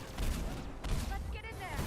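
Dense, overlapping gunfire erupts in a Mass Effect firefight at a checkpoint, continuous loud bursts and booms with a shouted voice mixed in.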